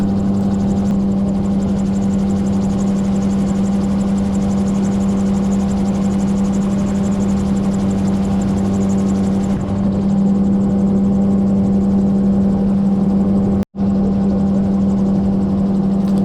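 Gyrocopter engine drones steadily through flight on a gusty day near Ellesmere and Welshpool, a loud continuous rotor-and-engine hum with wind buffeting, one brief dropout near the end.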